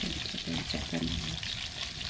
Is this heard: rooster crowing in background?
no